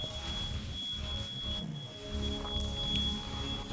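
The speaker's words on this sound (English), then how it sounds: "It's the fire alarm with a dead battery." A fire alarm with a dead battery sounds in the entrance of an abandoned military base, giving a thin, steady high-pitched tone with a brief chirp, faint against a low room rumble.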